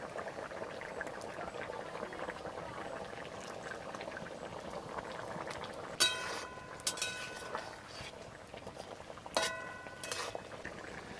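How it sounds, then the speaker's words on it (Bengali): Pieces of chitra fish go into a bubbling village-style curry in a pan, a steady close boil and simmer with a few clattering bursts of stirring and scraping. "এবার মাছ দিয়ে দেবো।"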